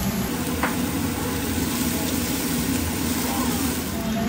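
King oyster mushrooms stir-fry with garlic in a hot pan until golden, giving a steady, close, continuous sizzle with faint stirring and no talk.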